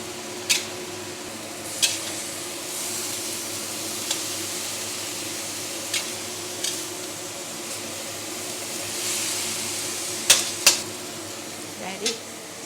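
Cabbage and minced meat stir-frying and simmering in a pan, a steady soft sizzle broken by sharp clinks and scrapes of a utensil against the pan, several clustered near the end.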